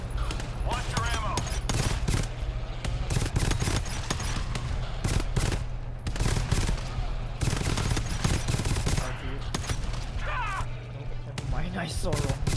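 Relentless gunfire in GTFO, dense volleys of close shots and impacts over a low droning game background, with players talking throughout.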